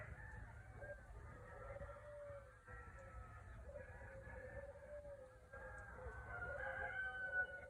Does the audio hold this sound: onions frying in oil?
no